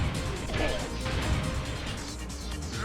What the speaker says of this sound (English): You can still hear the metal sounds as he gets smashed around.